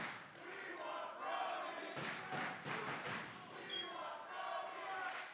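A wrestling crowd in Philadelphia at a New Japan Pro-Wrestling show roars and chants steadily, with loud surges and sharp thudding impacts rising over the constant din.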